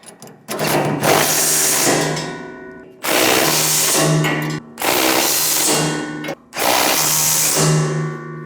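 A 3/4 inch socket tightening bolts on a MUSKOX 23 37 snowblower during fan replacement: four loud, close whirring bursts, each lasting a second or two, separated by short pauses, with no talking.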